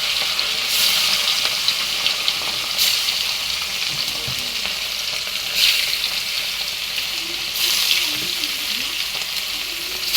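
Fish frying in a hot wok gives a steady, close crackling sizzle throughout, swelling into brighter hissing bursts every couple of seconds as pieces are added.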